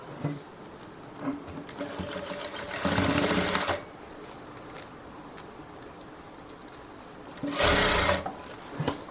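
Sewing machine stitching along a fabric edge in two short, loud whirring bursts, separated by quieter handling of the cloth, close up, with no talk.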